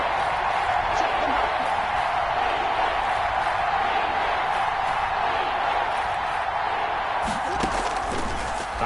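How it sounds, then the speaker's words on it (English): A stadium crowd in a football video game roars as one broad, steady wall of noise, swelling slightly toward the end, with voices mixed in. "Here comes a big one as this crowd gets up making some noise"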